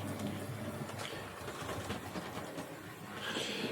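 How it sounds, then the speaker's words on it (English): A Hornby R2715 Standard Class 4 model steam locomotive runs smoothly on its track after a jerky-running repair, giving a steady faint mechanical whirr and rattle that holds at an even level throughout. "as you can see, the locomotive is running lovely now"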